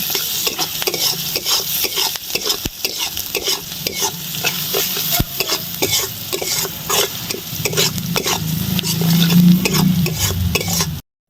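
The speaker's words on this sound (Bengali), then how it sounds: "দিয়ে দেবো অল্প হলুদ গুঁড়া দিয়ে দেব লবণ এবার এগুলো ভেজে নেব" Fish omelette mixture seasoned with turmeric and salt frying steadily in a pan, a continuous close sizzle broken by frequent sharp scrapes and clicks of a spatula stirring, growing louder near the end.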